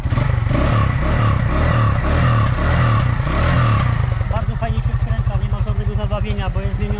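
A Junak motorcycle with a modified carburetor and accelerator pump revs hard, then settles into a rapid, lumpy, throbbing idle, loud and close, with people talking over it.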